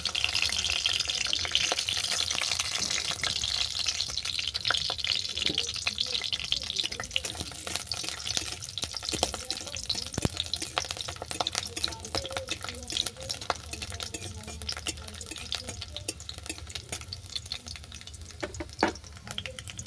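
Dried chillies and peeled garlic sizzle in hot oil in a pan, a steady close crackle and hiss running throughout with no one talking.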